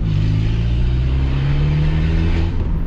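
Peugeot 206 fitted with a diffuser accelerates past a gas station, its engine droning loud and close with a steady, slightly rising tone.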